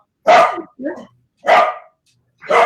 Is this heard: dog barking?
yes